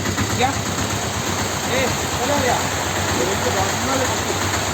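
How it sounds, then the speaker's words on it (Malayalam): Dense, steady rain pouring down, a continuous wash of noise with faint voices talking underneath. "നല്ല മഴ വരുന്നുണ്ട്"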